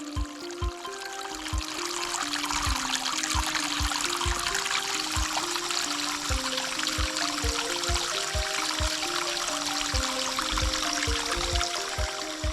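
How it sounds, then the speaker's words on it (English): Steady flowing water through ponds and carved channels in a valley with areca nut gardens, a continuous rushing and trickling wash heard close, with faint low rhythmic thumps underneath and no voices. "the water continues to flow onward through ponds and carved channels"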